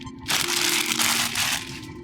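Plastic packaging crinkles and crunches loudly up close as a Star Trek Enterprise toy from an InnerSpace bridge set is unwrapped, in one continuous crackling burst of about two seconds.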